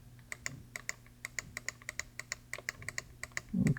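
Computer keys clatter in an irregular run of crisp, close taps during photo editing of scanned vintage documents, ending with a louder thump.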